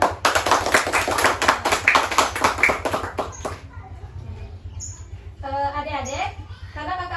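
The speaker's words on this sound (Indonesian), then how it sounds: "tepuk tangan untuk semua" A group of children claps together during a lesson on daily prayers, with dense, rapid hand claps for about three seconds. The clapping then gives way to children's voices chattering and calling out.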